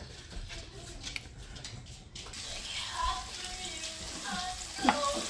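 Chicken pieces cook in a pot for a chicken and cabbage stir fry, giving off a steady sizzle and light bubbling that swells slightly partway through, heard on its own without talk.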